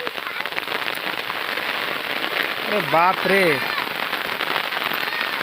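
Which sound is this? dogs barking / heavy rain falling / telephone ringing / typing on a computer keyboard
heavy rain falling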